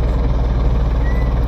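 A low, rumbling engine from a vehicle in the video game Farming Simulator 19 drones steadily with a regular pulsing beat, sounding like a heavy truck or tractor idling rather than a car.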